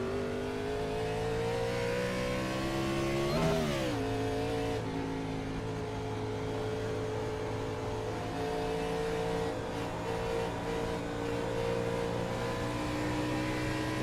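Matt Kenseth's Carhartt NASCAR race car in a racing video game at Pocono, its engine droning loud and steady throughout, with a sharp rev spike and pitch dip partway through before settling back into a sustained high-speed whine.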